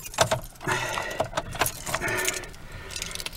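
Keys jangle at the ignition of a Chevrolet S10 pickup, several bright metallic rattles and clinks in quick bursts, close and fairly loud, with faint low background hum.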